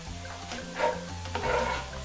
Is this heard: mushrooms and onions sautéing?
yes